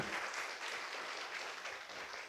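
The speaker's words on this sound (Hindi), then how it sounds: "एक बार ताली बजाओ जोर से उसके लिए।" A church congregation claps loudly together, a dense continuous burst of applause sustained across the whole short stretch with no other sound standing out.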